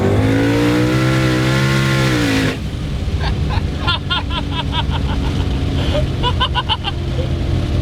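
High-revving 1200 HP twin turbo Mustang GT with boost turned up, a loud rising engine howl that cuts off abruptly, followed by a rough rumble with scattered clicks and pops close by.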